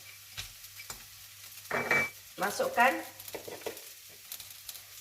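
Cashews frying and being stirred in fried-onion oil for a prawn biryani, with steady sizzling and scraping stirs growing louder midway, close up, while a voice speaks briefly.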